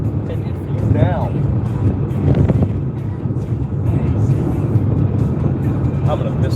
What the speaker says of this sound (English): That's that fucking Panamera.